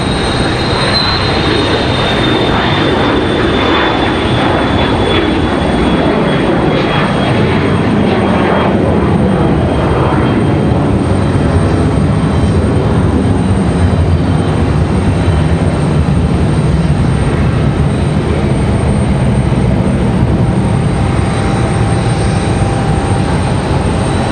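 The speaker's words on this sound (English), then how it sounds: "Southwest hitting the runway." A Southwest airliner jet takes off from the runway at Raleigh-Durham International Airport, a loud sustained engine roar that builds and rumbles steadily throughout, with a high whine fading early on.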